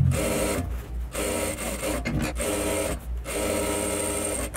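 A sewing machine stitching bias binding onto the neckline and armholes of a dress, running in several bursts of rapid mechanical whirring with short pauses between, close and clear, no talk.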